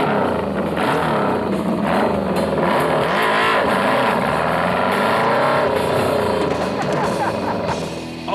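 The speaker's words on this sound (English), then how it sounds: "Now let's start this baby up and ride away into the sunset." A car engine revs hard and loud, rising and falling in strong accelerating surges that fill the whole stretch, with no pauses or talk over it.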